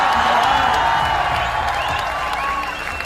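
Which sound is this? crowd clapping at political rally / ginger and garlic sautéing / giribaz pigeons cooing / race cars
crowd clapping at political rally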